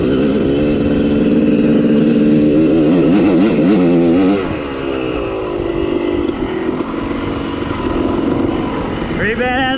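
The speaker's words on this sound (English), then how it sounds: "Pretty badass bike though." A motorcycle engine revs loud and close, its pitch wavering up and down before settling into a steady idle, then rising sharply again at the end.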